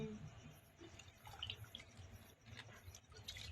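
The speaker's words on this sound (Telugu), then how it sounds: "అబ్బో, బియ్యం అయితే కడుగుతున్నా." Rice and split black gram being washed in water in a home kitchen at night, a steady wet sloshing and trickling with small splashes throughout, at moderate distance with no talking.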